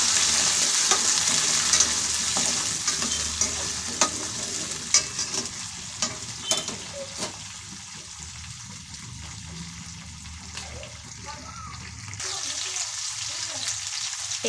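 Onions with urad dal frying in oil, a steady close sizzle with repeated scraping strokes of a spoon stirring through the pan, no voices, for an onion chutney served with dosa.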